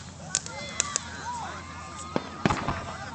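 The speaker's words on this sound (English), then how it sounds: "So the noises coming over there to my right are other fireworks that audience members are lighting." Amateur fireworks set off by spectators at a July 4th display: a handful of sharp, scattered bangs and pops with whistling streaks between them, heard from a moderate distance over a steady outdoor hum.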